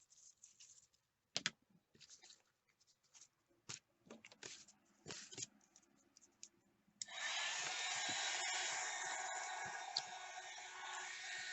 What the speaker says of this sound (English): The rest of it's wet, so we will heat blast it.